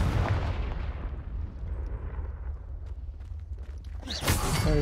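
A Confringo blasting curse explodes in Hogwarts Legacy, a deep rumbling boom that rolls off and decays over several seconds, followed by a sharp second crack of impact near the end.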